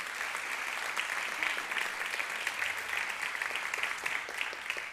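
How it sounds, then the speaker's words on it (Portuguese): A church congregation claps together during an evening celebration service, a dense, even patter of many hands sustained for several seconds at moderate distance, with no voice over it. "Pode aplaudir ao Senhor."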